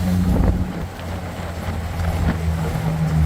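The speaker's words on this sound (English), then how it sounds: "Very windy, of course, with no windows" Wind roars steadily through the open cabin of a 1995 Jeep Wrangler S, a Jurassic Park replica, driven with no windows, buffeting over a low engine drone that continues throughout without any talking.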